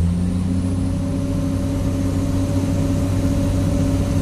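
A Komatsu PC 200-8 excavator engine runs loud and steady at close range, with a constant droning hum and strong low tonal layers that hold without a break.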